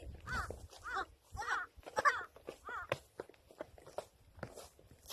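A large bird, probably a crow, gives several harsh caws in a row outdoors, fairly close and moderately loud, while people speak quietly and footsteps crunch nearby.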